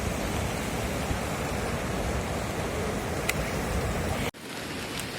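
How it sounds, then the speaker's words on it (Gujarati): Loud, steady roar of the flooded Uben river's rushing water fills the clip, broad and constant, then drops abruptly near the end to a quieter hiss. "એક એકવાર પાણી જોઈ લો અવાજ તો તમને બીક લાગે"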